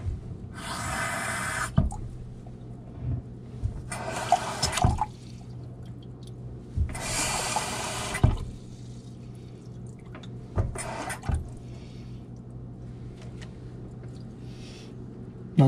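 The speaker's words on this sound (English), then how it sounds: "I'm thinking that we're going to need just a little bit more warm water here" Warm water from a household tap runs in several separate bursts of bright rushing splash, each a second or two long, separated by quieter stretches with faint drips and handling noise nearby.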